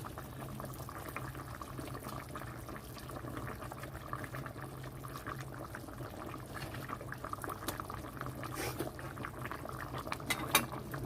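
Tilapia fish curry with taro, potato and greens bubbles in a pot, a low continuous simmer with soft rumbling and occasional faint clinks of a utensil.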